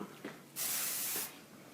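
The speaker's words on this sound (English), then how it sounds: "Spray that, keep the bump into place." An aerosol can of hairspray is sprayed onto styled cheer hair in one close, bright hissing burst lasting just under a second, preceded by quiet handling noises.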